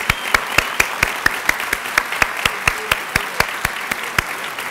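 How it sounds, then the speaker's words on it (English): Audience clapping at a public forum, a steady round of applause with sharp, evenly spaced claps standing out from the crowd wash, loud and close, no talking. "One last round of applause for David Gregory."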